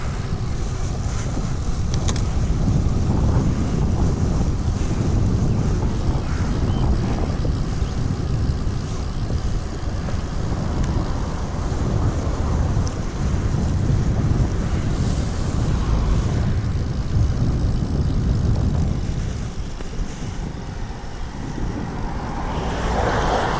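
Strong wind roars and buffets steadily throughout while riding a road bicycle, a dense low rumble that hardly lets up, easing slightly near the end.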